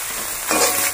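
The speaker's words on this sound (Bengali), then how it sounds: "এগুলি দিয়ে আবার ভালো করে একটু ফ্রাই করে নিতে হবে।" Cumin, ginger and garlic paste frying in oil for a fish curry, a dense, loud hiss that swells briefly in the middle of a single short second, with no voices.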